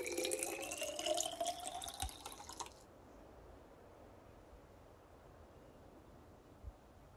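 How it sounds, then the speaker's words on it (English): Water pours for a rabbit in the video game Gray Matter, a bright trickling splash for about two and a half seconds that then stops, leaving a quiet room tone with a soft tap or two. "Let's water Houdini"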